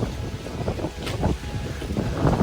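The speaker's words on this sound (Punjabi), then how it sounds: "ਜੇ ਹਿਸਾਬ ਨਾਲ ਹਵਾ ਚੱਲਦੀ ਆ" Outdoor wind blows steadily in gusty, rumbling bursts across a rural setting near Anandpur Sahib, loud and close with buffeting noise on the microphone and no talking.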